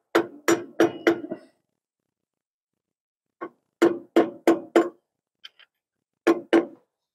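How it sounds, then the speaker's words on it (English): A hammer tapping a seal into a Dexter RV axle hub: sharp metallic taps in quick bursts of four or five, pausing in between, close and loud, with no talking. "You just put a hammer on this"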